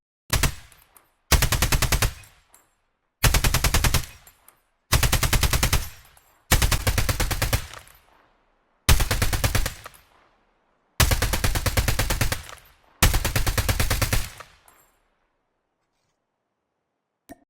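Automatic gunfire from Call of Duty Mobile in Battle Royale mode rips out in eight sharp, loud bursts of rapid shots separated by brief silences, with no talking.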